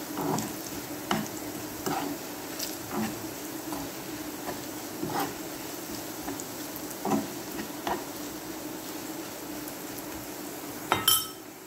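Chopped onions sizzle and crackle steadily in a hot frying pan for a lunch of koshari, with repeated clinks of a utensil stirring against the pan.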